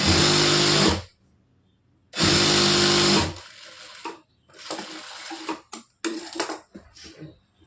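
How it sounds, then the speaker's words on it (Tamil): A sewing machine stitches a blouse seam in two loud, even runs about a second each, separated by a quiet pause, followed by softer clicks and handling sounds of fabric and machine. "திருப்பிட்டு 1/4 இன்ச்சு கேப் விட்டு மறுபடியும் இன்னொரு தையல்"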